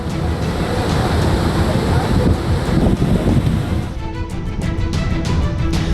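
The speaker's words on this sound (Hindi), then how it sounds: "बांधों से छोड़ा गया पानी सड़कों पर कोहराम मचा रहा है।" Floodwater rushing through flooded streets in Gujarat after dam water was released: a loud, continuous broadband roar of churning water, steady and close throughout, with a faint rhythmic ticking near the end.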